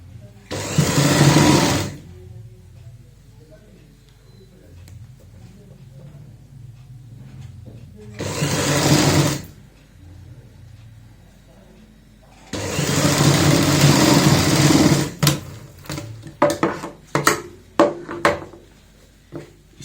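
A sewing machine runs in three bursts, stitching over the seam that attaches a frill on a child's designer frock, each run loud and steady for a few seconds, separated by pauses with faint background sounds and some short clicks near the end.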